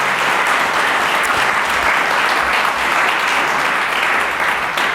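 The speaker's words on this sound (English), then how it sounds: "Give yourselves a round of applause for that." A crowd at a swearing-in ceremony applauds loudly, the dense clapping holding steady without a break.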